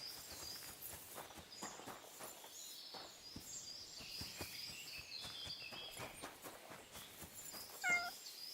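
A cat meows a few times in the medieval game Kingdom Come: Deliverance II, faint and high against soft footsteps and ambient outdoor noise, with a louder cry near the end.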